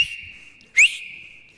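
A single sharp, loud whistle blast imitating a beach lifeguard's whistle, with a steady shrill tone held alone for about a second, then cut off.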